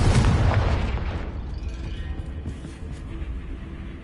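A Confringo blast spell in a Harry Potter video game: one loud, booming explosion at the start that slowly fades into a lingering rumble, with no voices.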